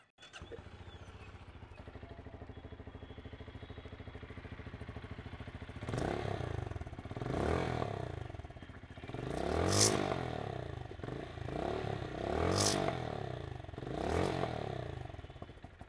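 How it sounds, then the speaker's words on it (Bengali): A QJ Motors SRC 500 motorcycle engine idles with a steady low thrum, then is revved several times, each rev rising and falling in a loud throaty sweep with some mechanical clatter, close up. "এই ভীষণ সুন্দর বাইকটার সাউন্ডটা কেমন সেটা একবার আপনাদের শুনিয়ে দেব"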